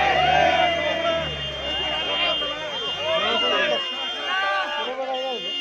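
A large crowd gathered near a captured leopard makes a loud, continuous hubbub of mixed shouting and voices, with someone speaking over the noise.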